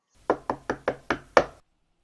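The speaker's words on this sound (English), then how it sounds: "came sometimes afterwards and knocked at the door" Six crisp, evenly spaced knocks on a wooden door, close and loud in an otherwise silent room, ending abruptly.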